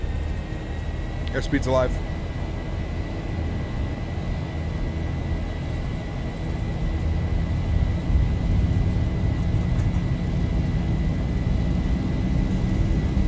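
Boeing 737-800 engines at takeoff power in a flight simulator, a steady broad roar with a constant whine holding throughout, while a voice speaks briefly over it.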